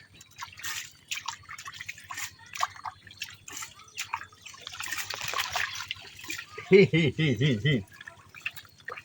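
Water trickles and drips while freshly caught crabs from a Sundarban forest are rinsed, with voices talking over it and a louder, tonal splashing burst near the end.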